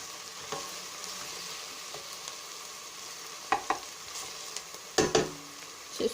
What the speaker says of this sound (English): just to let this saute until like very light brown color